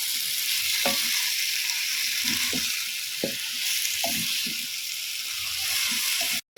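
Beef tongue curry with potatoes and carrots sizzles steadily in a pan while a spoon stirs it, scraping and knocking in irregular strokes over a constant hiss, close and fairly loud.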